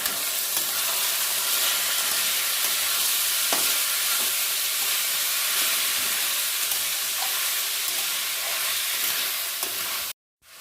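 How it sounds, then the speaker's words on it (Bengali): Continuous sizzling from a hot pan with occasional scraping clicks as kalo nunia rice grains are stirred with lentils for khichuri, steady and close, ending abruptly. "চালটা দিয়ে একটু নেড়ে নিতে হবে"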